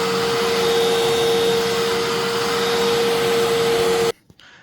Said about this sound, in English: So I'm going to run another machine real quick, because it's a bagged vacuum.